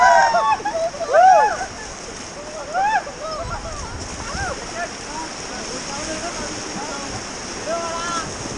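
River water rushes and splashes around a raft on a whitewater run in Kullu, Himachal Pradesh, a steady roar with a brief louder surge, while several voices shout and talk over it.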